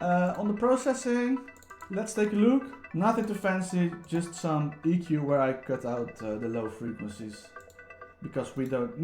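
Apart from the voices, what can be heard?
No everyday noise stands out behind the speech.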